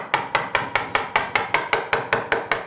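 A steady run of about a dozen sharp, evenly spaced blows strikes wood while a half-lap notch is cut, each hit crisp and close with a short decay, alone without talk.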